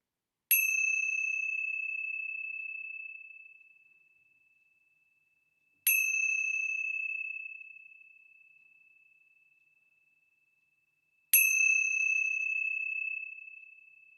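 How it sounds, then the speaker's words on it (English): Three bell strikes ring out one at a time, each a bright metallic ding that hangs and fades slowly before the next, roughly five seconds apart, alone in otherwise silent surroundings. "we begin with the ringing of the bells of hope"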